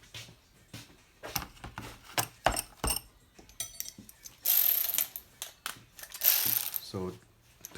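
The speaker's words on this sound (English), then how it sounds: "the clamp that I use a 10mm socket for the intake. Loosen it out" A ratchet with a 10mm socket loosening an intake clamp during a turbo swap on a gen5 3S-GTE engine, a series of quick clicking ratchet bursts close by with metallic clatter and pauses between strokes.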